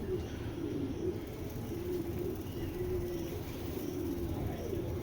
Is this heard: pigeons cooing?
yes